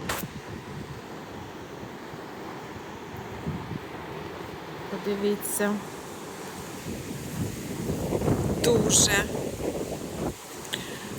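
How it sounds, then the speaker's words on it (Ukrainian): Heavy storm surf on the Black Sea at Odesa crashes and roars beneath gusting wind buffeting the microphone, with a person speaking briefly over the stormy sea. "дуже великі хвилі."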